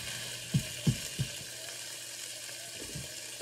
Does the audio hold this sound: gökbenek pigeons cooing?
no